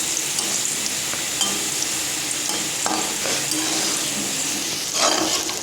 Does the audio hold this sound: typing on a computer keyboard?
no